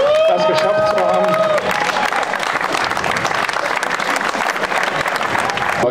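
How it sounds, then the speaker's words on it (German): A crowd in Wernigerode applauds a team's promotion, a brief voice giving way to sustained, dense clapping that fills the room evenly for several seconds. "Ich denke mal, das ist erstmal ein Riesenapplaus wert für alle, das geschafft zu haben"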